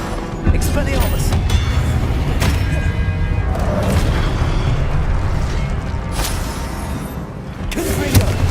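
Blasting spell explosions from Hogwarts Legacy combat, a dense stream of booming impacts and rumbling magic bursts layered over game music, with sharp broadband thumps near the start, around six seconds and near the end.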